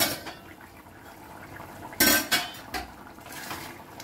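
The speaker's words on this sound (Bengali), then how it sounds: "এবারে আমি ঢাকাটা খুলে দেখব।" Metal lid lifted off a pot of potatoes boiling in lentil-fritter gravy: a few sharp clanks and rattles in quick succession, with a soft bubbling, watery hiss between them.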